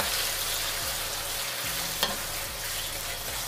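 Shrimp stirred into rice frying in a hot pan, a steady close sizzle with scraping stir sounds and a brief clink, no voices.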